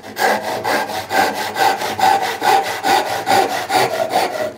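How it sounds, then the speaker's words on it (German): A Japanese hand saw cuts through wood in quick, regular strokes, about three per second, each a rasping scrape, close and loud with no voices. "können wir den Rest gerade runtersägen."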